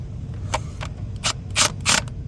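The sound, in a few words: Milwaukee impact driver with 9/16 bit torquing down bolts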